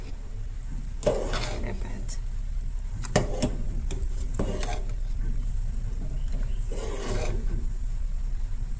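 A spoon scrapes and rasps through salted taro (aloo) bhaji in a pan, in a few separate bursts of stirring with quiet gaps between, close by and moderately loud, with occasional talk nearby.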